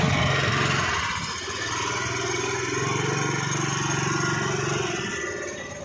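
A scooter engine runs steadily during a riding practice lesson, a continuous low motor drone with a faint hum that holds nearly level throughout, loud and close with no talking over it.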